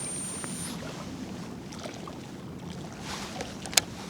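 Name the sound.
Shimano 25 Antares DC baitcasting reel making abnormal noise during cast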